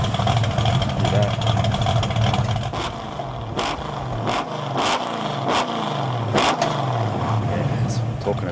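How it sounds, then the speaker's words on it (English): A Valiant Charger fitted with a 360 V8 rumbles steadily at idle with a deep, throaty, loping note, close and loud, while people talk over it throughout. "we've got a motor in, 360 V8"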